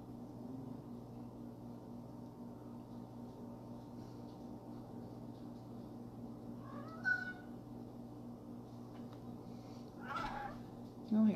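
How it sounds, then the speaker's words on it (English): A house cat meows in a kitchen, a couple of short calls and a rising cry standing out over a steady background hum and low talk. "Oh, here comes the cat."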